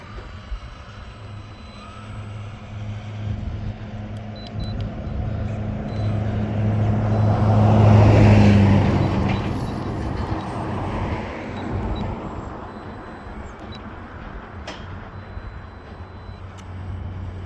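A Louise RC LRX radio-controlled car runs at high speed with a steady motor whine that swells to a loud close peak as it passes, then fades back to a constant drone.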